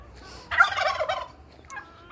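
A turkey on a garden nursery farm lets out a single loud, rattling gobble lasting under a second, followed by a faint short call, with quiet surroundings otherwise.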